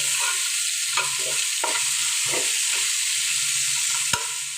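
Steady loud sizzling of potatoes frying in hot oil, with occasional stirring scrapes and one sharp clink near the end.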